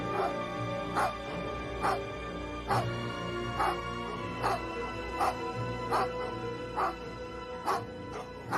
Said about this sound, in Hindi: बिजुका को जमीन पर गिरा पड़ा देखकर कुत्ते उसकी ओर भागे।